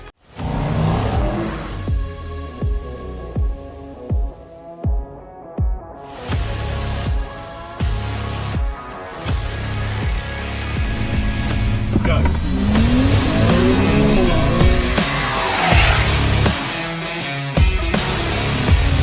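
Race cars lap Chang International Circuit during a Thailand Super Series finale. Loud engines rev and shift up and down through the gears as they pass nearby. A commentator talks over the steady racing noise.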